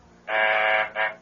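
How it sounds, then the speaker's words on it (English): An apartment phone buzzer sounding from downstairs in a radio drama: one long, steady electric buzz followed by a second shorter buzz, loud and close, with no talking over it. "That's the phone buzzer from downstairs"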